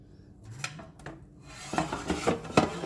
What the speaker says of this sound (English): I'm gonna turn my potato over